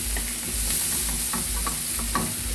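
Onions fry in a little oil in a pan, a close, constant sizzle and crackle with scattered pops and light stirring, no voices over it.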